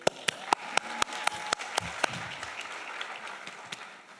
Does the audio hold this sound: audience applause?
yes